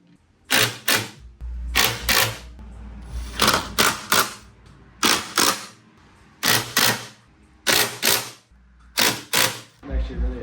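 Bolts being tightened on a BMW F8X chassis during a coilover conversion, sharp ratcheting bursts in close, repeated clusters separated by short pauses.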